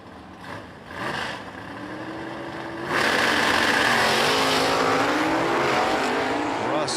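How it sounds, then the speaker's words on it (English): A Camaro makes a drag racing run down the strip. The engine roar rises sharply and stays loud as the car launches and pulls away, with faint crowd or announcer sounds underneath. "Larry Dormer over there in the Camaro, dialed up a 9:68."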